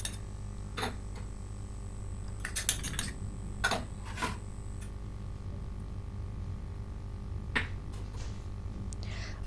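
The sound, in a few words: mixing spiced soya chunks with a spoon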